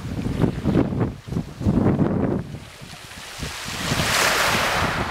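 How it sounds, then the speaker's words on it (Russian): Sea waves and wind at Agia Efimia on Kefalonia: surf washes in and recedes in rough surges while gusts buffet the microphone, loud and close throughout. "Мы и море."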